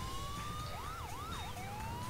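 A wailing police car siren from a patrol car in GTA IV with the LCPDFR police mod, a rising and falling electronic wail that sweeps up and down twice and then levels off, steady and fairly close.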